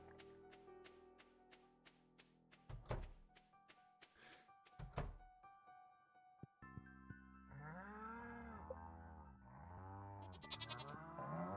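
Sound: goat bleating in the video game Stardew Valley

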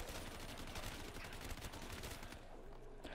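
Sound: gunfire from a gun in Black Ops III Zombies video game

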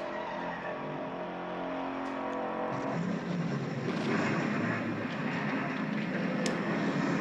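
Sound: car engine shifting gears in Bullitt movie car chase

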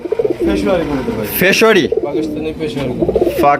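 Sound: Pakistani fancy pigeons cooing

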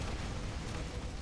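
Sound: explosions in the video game Earth Defense Force: Iron Rain

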